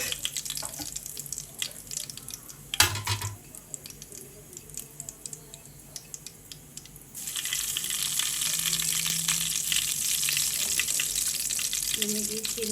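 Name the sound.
tempering mustard seeds and cumin in hot ghee for dal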